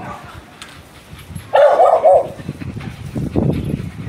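Several dogs barking excitedly nearby, one loud burst of barks and yips, then more scattered barking and whimpering at lower level.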